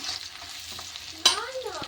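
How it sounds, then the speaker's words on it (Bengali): Onions fry in a pan with a soft, low sizzle and occasional stirring scrapes, heard close but fairly quiet. "আর এখানে দেখো আমি পেঁয়াজ ভাজছি।"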